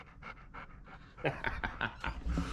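A dog pants close by in quick, rhythmic breaths, growing a bit louder and faster toward the end.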